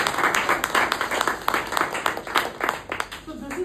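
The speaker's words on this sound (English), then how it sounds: "We can give him a round of applause for writing so well." An audience at a keynote speech applauding, a dense patter of many hands clapping together at moderate loudness through the whole stretch.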